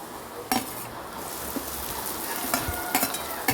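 Two large cut onions fry with green chilli and curry leaves in a pan, a steady close sizzle punctuated by several sharp metal clinks and scrapes of the stirring spoon.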